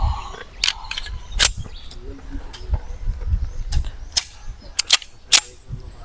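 Sharp shots ring out one after another at irregular intervals, fired at a resetting target on a range. The cracks are loud and close, some landing in quick pairs, over low background noise and faint voices.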